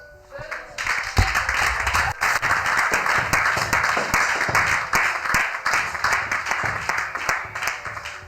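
A church congregation bursts into sustained applause at a French-language sermon, dense clapping filling the room for several seconds, steady and loud with scattered cheers and voices mixed in.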